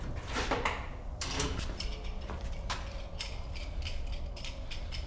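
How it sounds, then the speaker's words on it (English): Metallic clicking and ratcheting as a C-clamp is worked onto the frame of a wrecked trailer during welding repair, a series of close, sharp mechanical clicks over a low workshop rumble. "So let's get a clamp over here on that."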